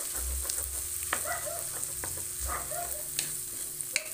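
An egg fries with bitter gourd and shrimp paste in a pan, soft continuous sizzling with scattered clinks and scraping from stirring, faint and close, with no talk.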